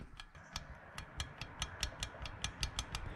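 A loose U-joint strap on a truck driveline is rocked back and forth by hand, giving a steady series of close, light metallic clicks and clunks about five per second.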